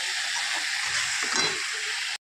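Onion paste frying in oil in a pan for a soybean, pointed gourd, prawn and potato dish, giving a steady, close, dense sizzle that holds evenly until it cuts off abruptly.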